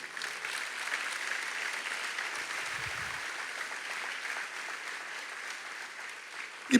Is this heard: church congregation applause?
yes